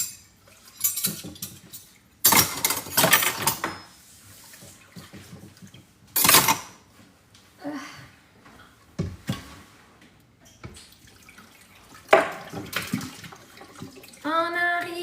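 Hand dishwashing at a kitchen sink with the tap running comes in repeated splashing bursts of water, separated by clattering plates, cutlery knocks and short pauses, with a few faint vocal sounds near the end.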